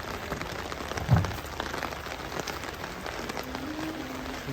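Heavy rain pours steadily at an outdoor cattle unloading spot on sand, a dense continuous hiss of drops on surfaces with no talk.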